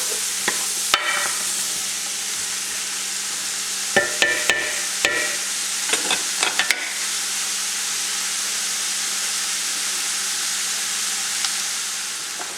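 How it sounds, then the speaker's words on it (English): Onions sizzle steadily in a pan, a continuous bright frying hiss with a few clattering stirs and taps of a utensil near the start. "now we're going to cook these onions down"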